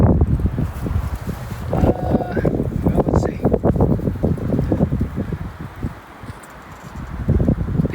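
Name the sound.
wind blowing through leaves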